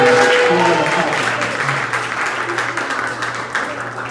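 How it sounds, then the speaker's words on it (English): A room of guests at a basketball banquet applauds steadily at moderate loudness, with a faint voice and a low hum underneath as the clapping thins slightly toward the end. "One more round of applause for those Academic All-State."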